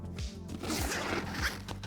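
Zippers on a camera backpack pulled along in several short quick strokes, close and fairly quiet, with faint rustling of fabric between pulls.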